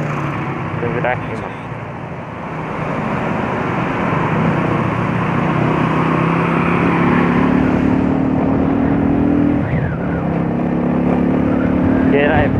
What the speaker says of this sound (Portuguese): Já vi que minha moto tá fria, então ela tá andando mais.